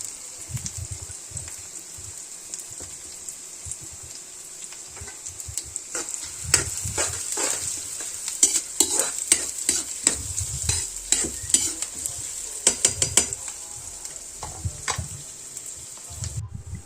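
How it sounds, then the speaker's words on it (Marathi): Onion frying in oil on a wood-fired stove, with a constant soft sizzle and intermittent scraping stirs that grow busier midway, close up with no talk. "आता तेलामध्ये मी कांदा घातलेला आहे शिजायला"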